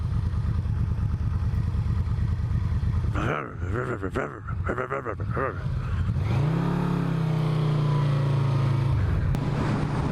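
A Yamaha V Max motorcycle engine revs loud and close, its deep roar dipping and surging before settling into a steady low rumble, with a voice talking over it.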